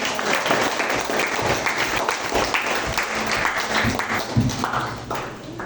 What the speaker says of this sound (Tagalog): Ang palakpak ay sa Panginoon. Palakpakan natin.